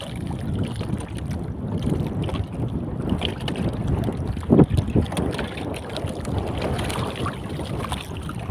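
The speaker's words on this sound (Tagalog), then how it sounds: "Sobrang lakas ng hangin." Strong wind roars and buffets against the microphone in a constant low rumble, with a brief louder gust in the middle, outdoors near open water.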